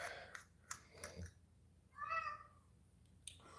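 A house cat gives a single clear, close meow, with a few soft clicks and faint murmured talk around it in a quiet room.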